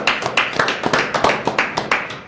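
Audience applause from a live studio crowd, a short burst of sharp, fairly close hand claps in a quick irregular rhythm, loud and clear with no talking over it.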